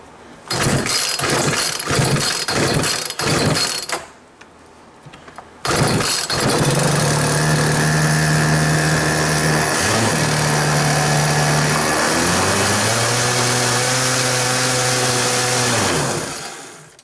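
A Poulan 220 chainsaw engine is pulled over several times in a quick choppy rhythm, then fires and runs loud and close, revving up and down with a steady buzzing drone before cutting off.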